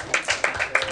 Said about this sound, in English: Thank you, Alex. Round of applause.